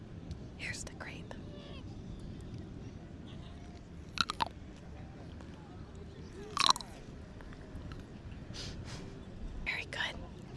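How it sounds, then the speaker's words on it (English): Crunchy green grapes bitten and chewed close to the mic, with wet crunches, a few sharp bites and soft whispered talk over a quiet background. "I have some grapes and they're green. They don't look crunchy, but they are."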